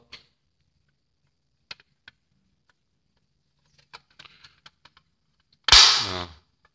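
Several faint plastic clicks and taps on a stiff 4-slot Schneider Domae MCB breaker box lid, then one sharp, loud snap near the end as the lid pops shut or open.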